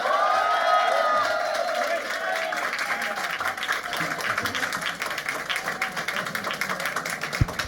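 Audience applause following an acoustic music performance, dense clapping from a crowd that starts strong and stays steady, with a voice briefly heard under it at the start.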